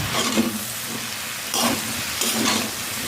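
Vegetables sizzle steadily in a hot pan while being stirred, giving a continuous close frying hiss with periodic scraping swells from the stirring.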